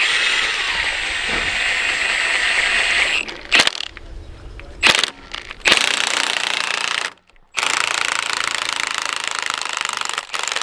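Close, loud power-tool hammering drives a socket on a boat engine during an LS swap, a harsh rattling buzz in several bursts separated by short pauses.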